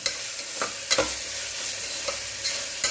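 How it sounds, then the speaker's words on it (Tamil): Ginger garlic paste frying in a pan sizzles steadily while a spoon stirs it, a few sharp scrapes and clacks punctuating the hiss; no voices. "இஞ்சி பூண்டு பேஸ்ட்டு போட்டோன்னா இதெல்லாம் நல்லா அப்படியே ஒரு கிண்டி விட்டுக்கலாம்"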